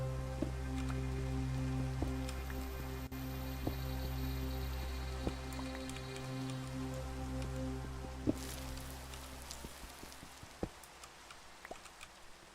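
Steady rain falls in TerraFirmaCraft, the Minecraft mod, as a constant soft hiss with scattered droplet ticks and a low hum underneath, continuous for the whole stretch.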